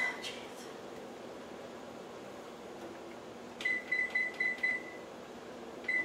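A kitchen timer being set gives a string of short electronic beeps against a quiet room hum, with a few more beeps near the end.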